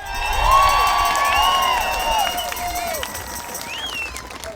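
An outdoor crowd at a No More Lockdowns protest in Brantford cheers, whoops and applauds loudly, with shrill voices rising above the clapping, then settles into a steadier, softer murmur of claps and calls.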